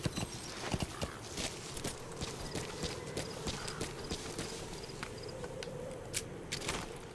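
Hooves of a horse clip-clop at a walking pace in Metal Gear Solid V: The Phantom Pain, fairly quiet and even, slowing as the ride comes to a stop.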